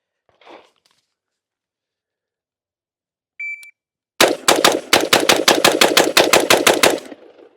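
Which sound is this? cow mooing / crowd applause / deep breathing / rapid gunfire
rapid gunfire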